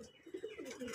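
Several loft pigeons, breeding males in heat, coo in a run of low throaty pulses, close and moderately loud, with overlapping calls and no talking.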